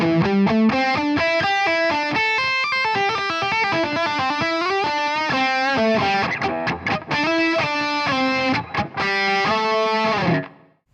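A distorted electric guitar plays a fast solo, with rapid runs of notes and a tapping pattern. It stays loud and steady before stopping abruptly near the end.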